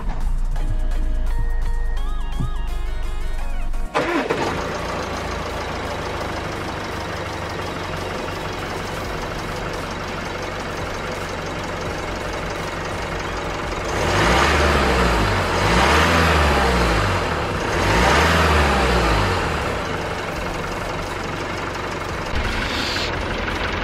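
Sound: Range Rover Evoque engine starting and running

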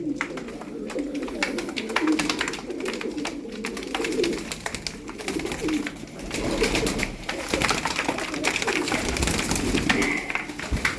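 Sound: pigeons cooing

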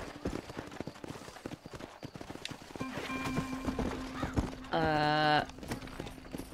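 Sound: riding horse hooves in video game

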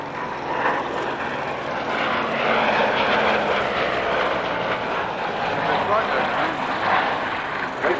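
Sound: vintage aircraft engine

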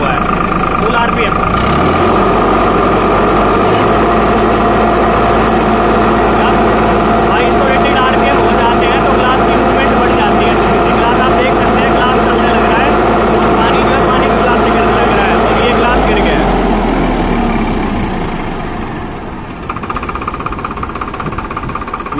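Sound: Farmtrac 60 tractor engine running at full RPM

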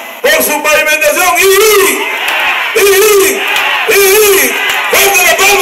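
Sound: crowd clapping and cheering for the mayor

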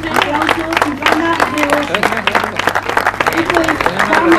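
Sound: audience applause for Silvana Rebollo

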